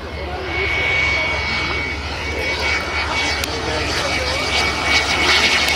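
A model British Aerospace Concorde jet flies at a model air show, giving a steady, loud, roaring engine drone throughout with a faint high whine and outdoor wind noise.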